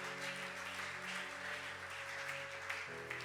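A church congregation claps and applauds for the Lord at a Sunday service, producing a steady, dense wash of clapping that holds evenly for a few seconds with sustained musical tones underneath.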